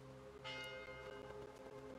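A church bell rings in the Last Train Home video game, a sustained, resonant metallic tone with lingering overtones, fairly faint and heard alone, with no voices over it.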